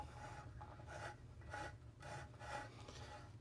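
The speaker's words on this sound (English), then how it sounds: "After welding the bung in, I had to re-tap this" A thread tap scrapes and rasps as it re-cuts threads in a welded bung on a 1947 Whizzer tank, with quiet rhythmic strokes repeating about every half second in a close, still garage.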